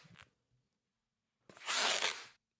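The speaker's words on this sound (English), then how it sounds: "Creepy latex rips as well." Latex tearing makes a short faint rip, then after a pause a louder, longer ripping burst lasting about a second, isolated with no talking.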